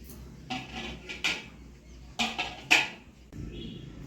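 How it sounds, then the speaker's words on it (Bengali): A cooking pot is set onto a lit clay stove with several short, separate clanks and knocks of metal and earthenware at close range. "এবারে আমি হাঁড়িটা বসিয়ে দেবো উনানে"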